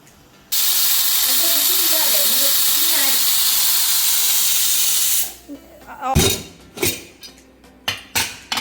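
A pressure cooker cooking mutton curry gives a loud, steady whistle of escaping steam for about five seconds, followed by clinks and knocks of pots and utensils.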